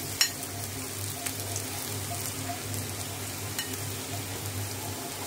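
Spices dropped one by one into a pan of lightly fried chopped onions: a steady close sizzle with scattered small pops and crackles, no voices.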